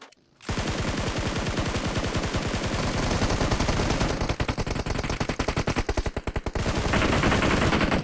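Rapid automatic gunfire in the mobile battle royale game PUBG Mobile, loud sustained bursts of closely spaced shots with brief pauses between volleys, after a short quiet opening.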